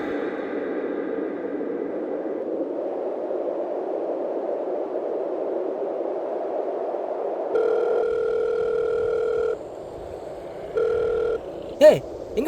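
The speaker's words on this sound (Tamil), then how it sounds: "ஏன் ஃபோன் அடிச்சு எடுக்கவே மாட்டேற?" An unanswered phone call in a Tamil short film gives two long pulses of ringback tone, close and clear, after several seconds of steady low hum.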